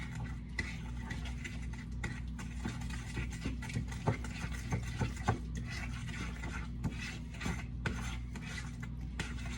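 A spoon scrapes and rasps through chocolate chip cookie dough in a bowl, steady rhythmic scraping with small clicks against the sides, close and alone without talk.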